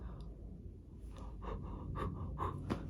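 A voice imitates heavy open-mouth breathing, with a few rough, airy breaths growing slightly louder, close and alone.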